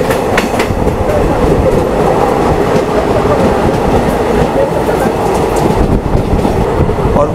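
A passenger train with all classes of coaches runs between Manmad and Mumbai in the monsoon, its wheels clattering loud and steady on the rails close by, with no break.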